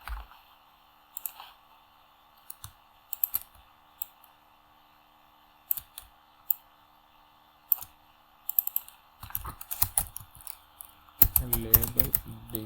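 Keys click on a computer keyboard during graphic design work, in short scattered bursts of close, crisp taps that grow quicker and denser toward the end, with a faint voice.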